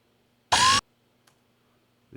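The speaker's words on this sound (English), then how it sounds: "Patrol mech alert sound." A video game patrol mech gives a single short alert, a bright synthetic burst with a rising tone lasting about a quarter second, followed by near silence and a faint click.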